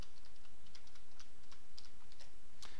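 Light typing on a computer keyboard while entering a PowerShell command: a quiet, uneven series of soft key clicks over low room hiss, close and alone.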